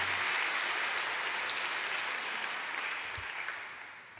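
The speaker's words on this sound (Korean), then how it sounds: "우리 하나님께 큰 감사와 찬양과 영광의 박수를 올려드립니다" A church congregation applauds together in a steady, dense patter of clapping that holds and slowly fades over a few seconds, fairly distant.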